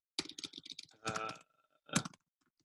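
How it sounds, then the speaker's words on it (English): A computer keyboard is typed on in a quiet room, with a quick run of soft key clicks, a pause, and then a final short burst. "I'll type it in the chat."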